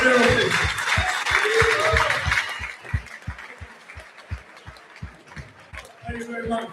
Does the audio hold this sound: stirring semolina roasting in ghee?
no